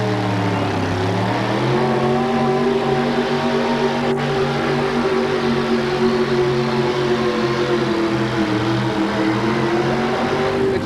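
A monster truck engine roars at full throttle during a truck pull at a 1988 USHRA event in Kansas City. The loud, sustained engine drone climbs in pitch early on, then holds steady and strained throughout.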